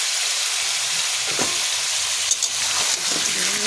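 Fish curry with potatoes, turmeric and salt frying in a pan as it is stirred, a continuous sizzle with occasional scraping strokes, close up and without speech.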